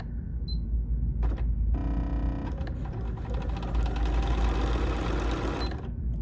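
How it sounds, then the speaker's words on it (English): A Bernina sewing machine stitches onto a vinyl sew-off piece with a non-stick foot, a short whirring burst followed by a longer steady run of stitching over a low background hum. "We're going to lower our presser foot, and then we're going to sew"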